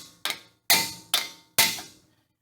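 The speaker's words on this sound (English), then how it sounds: "But I always first try hitting it with a hammer." Four sharp metallic hammer blows strike a stuck brake rotor on a Toyota Tacoma, spaced unevenly about half a second apart, each ringing briefly and close up.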